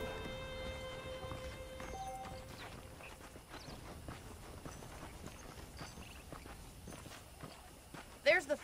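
Horse hooves in Red Dead Redemption 2, a steady clip-clop of a ridden horse walking on ground, moderately close and even in rhythm, with a few louder knocks at the end.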